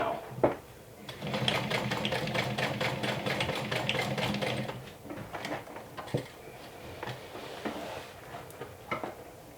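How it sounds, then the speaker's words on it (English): A sewing machine stitches the top of a fabric bag in short close bursts of rapid mechanical clatter, separated by pauses with light handling noises and no speech. "So I'll start by stitching just at the top right now."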